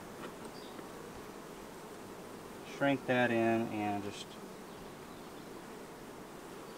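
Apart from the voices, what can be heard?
honey bees buzzing around hive frames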